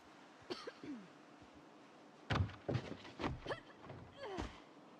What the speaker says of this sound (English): They must have heard my cough